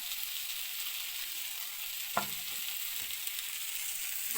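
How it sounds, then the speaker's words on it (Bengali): Meat frying in a pan with salt, garlic paste, chili and turmeric powder, a steady soft sizzle throughout with one brief scrape of a utensil midway. "সামান্য একটু জল দিয়া মাংসটা ভালো করে ভাজা ভাজা করতে লাগবে"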